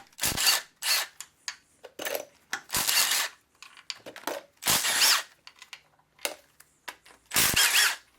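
Bolts are removed from the aft housing of an Atomic 4 marine engine, with repeated sharp metallic clicks and ratcheting wrench bursts in an irregular rhythm, close and fairly loud.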